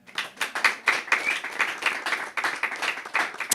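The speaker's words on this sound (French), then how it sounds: "applaudissez pour vous-même" A panel discussion audience claps together in a steady, dense round of applause, with sharp overlapping hand claps that rise and fall in close, lively bursts.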